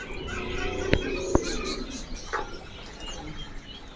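Canaries for sale at a busy bird market chirp and call from their cages, a few sharp tweets popping out over a steady wash of mixed birdsong and ambient market noise.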